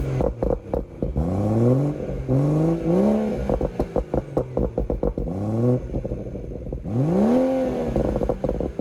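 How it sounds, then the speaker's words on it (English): A BMW M140i engine revs repeatedly with stability control off, rising and falling in pitch through several loud bursts, close by with no talking. "right now I'm just gonna rev my car"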